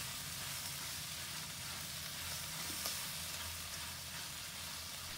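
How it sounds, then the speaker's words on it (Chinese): Mantis shrimp heads and legs stir-frying in hot cooking oil in a wok over medium-low heat, a faint continuous sizzle with occasional light scrapes of a spatula, no talking. "油热后，将虾头和虾脚倒入锅中，翻炒一下，用中小火炒至香味四溢"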